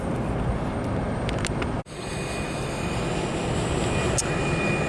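A Challenger business jet at an airport gives a steady, fairly loud engine roar throughout, with a thin high whine above it and a brief dip in level partway through.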